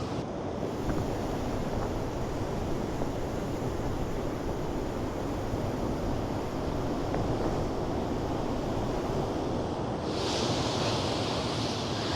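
Blustery wind buffets the open Dorset coast at Chapman's Pool, a loud, constant roar of gusts and microphone rumble mixed with surf, with no voices.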